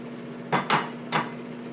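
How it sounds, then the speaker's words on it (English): Organic brown eggs cracked against a small bowl make three sharp, close taps, two in quick succession and a third shortly after, over a quiet background hum. "I take my small little bowl and I crack the eggs in there"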